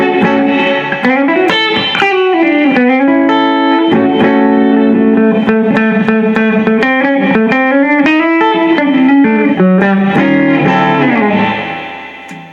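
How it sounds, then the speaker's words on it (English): Electric guitar lines ring out bathed in reverb, notes sustaining and blending into a washy tail before fading at the end. "Let's give it some reverb."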